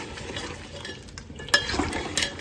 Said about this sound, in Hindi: अब बस इसमें एक ही बार चम्मच चलाएंगे, जो भी चलाएंगे ना, ये अभी ही चलाऊंगी मैं ये